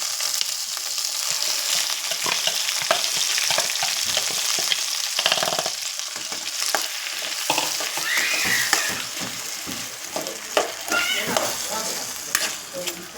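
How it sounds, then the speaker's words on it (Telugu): An ivy gourd masala curry sizzles steadily in a pan for a long stretch, with stirring scrapes and crackles rising and falling, close and fairly loud. "కొంతసేపు ఫ్రై అవ్వనివ్వండి అవి చూడండి ఫ్రెండ్స్ ఇప్పుడు బాగా ఫ్రై అయిపోయింది"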